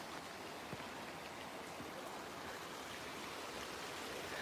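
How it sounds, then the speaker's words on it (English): A creek near a mountain train station hotel in Japan, steady broadband rushing water filling the whole span evenly, soft and continuous with no voices. "I guess it'd be a creek."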